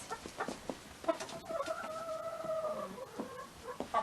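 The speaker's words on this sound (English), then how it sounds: "let's go see the chickens" Chickens cluck and murmur nearby in a coop during a snowstorm, with a few longer drawn-out calls standing out over soft background rustling.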